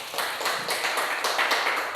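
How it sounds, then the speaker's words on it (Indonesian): Faint classroom clapping, a soft, fairly steady patter of several students' hands heard at a distance in an echoey room, without speech. "Ya, tepuk tangan dulu."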